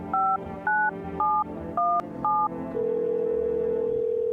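Touch-tone telephone keypad beeps, five quick dual-tone presses at a steady pace, followed by a steady ringback tone as a call goes through to a neighbor.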